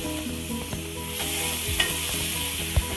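Eggplant sizzles steadily while grilling in a pan, with a constant hiss, light stirring and a few sharp ticks and pops.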